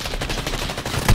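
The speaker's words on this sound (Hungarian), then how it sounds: "Na, miért lövöldöznek itt ilyen közel?" Nearby gunfire in Call of Duty Modern Warfare (2019) multiplayer, a rapid burst of shots ending in a louder crack, heard alone.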